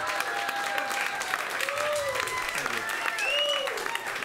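Audience applause fills a comedy performance space, steady dense clapping throughout with some crowd noise and voices mixed in.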